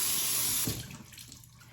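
A bathroom tap runs loudly over a makeup eraser cloth, a close steady water hiss that cuts off after under a second, leaving faint handling and dripping.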